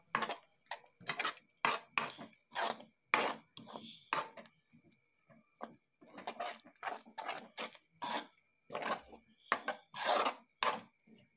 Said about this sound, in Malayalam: എന്നിട്ട് നമുക്ക് എല്ലാം കൂടി നന്നായിട്ട് മിക്സ് ചെയ്തെടുക്കാം.